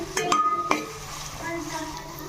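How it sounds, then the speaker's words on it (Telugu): Ginger garlic paste stirred into frying onions and spices for chicken curry and bagara rice, a couple of bright spoon clinks against the pot over a soft sizzle and scraping stir. "ఒక స్పూన్ ఫ్రెష్ అల్లం వెల్లుల్లి పేస్ట్ కూడా వేసుకొని కలుపుకోవాలి"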